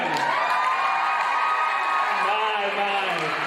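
Lively crowd at a film tribute event cheering and whooping, a continuous loud roar of overlapping voices and shouts with some clapping mixed in, filling the whole moment.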